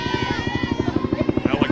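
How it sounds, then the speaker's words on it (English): A helicopter passes overhead above a college softball game between Kennesaw State and Georgia Tech, its rotor beating in rapid, even pulses under a broadcaster's commentary. "Helicopter flying overhead."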